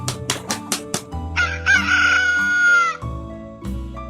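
A rooster crows loudly and close by, one long drawn-out call following a few sharp clucks, with more clucking at the end.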